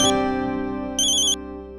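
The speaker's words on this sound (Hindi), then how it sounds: "एक मिनट, ऑफिस से फोन।" A phone rings with an incoming call, a short electronic ringtone with bright repeated chime tones over a steady tonal pattern, close and clear, with no talking.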